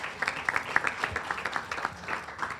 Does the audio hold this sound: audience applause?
yes